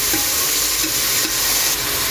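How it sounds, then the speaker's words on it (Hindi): Tomatoes frying in a pan, a dense steady hiss and sizzle that stays loud and close throughout the short stretch, with no talking. "जब तक हमारे टमाटर नरम ना हो जाए इनको अच्छी तरह भूनेंगे।"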